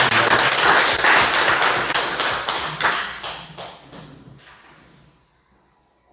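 A church congregation at a Sunday service claps together, a loud dense burst of applause that gradually thins out and fades to near silence.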